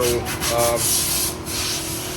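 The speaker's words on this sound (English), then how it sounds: "You want definitely a sand block when you start wet sanding" Steady wet rasping of a sanding block scrubbed back and forth over a surface, close and continuous, with a few brief scraping strokes.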